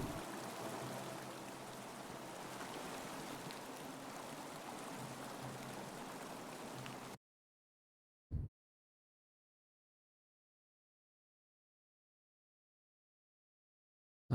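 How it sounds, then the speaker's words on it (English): Waterfall in the video game The Forgotten City, a steady rushing wash of falling water for several seconds that cuts off abruptly into silence, followed by a couple of brief isolated thumps. "let's try and hit the waterfall"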